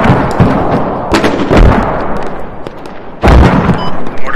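Heavy explosions from mortar fire in the military shooter Squad, several deep booming blasts with rumbling tails at irregular intervals, loud and close, with dense battlefield noise between them.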